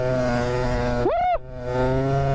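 A DT motorcycle fitted with a Macra aftermarket exhaust idles with a loud, close harmonic drone, then revs sharply once, the pitch climbing and falling back before the engine settles into its steady idle again.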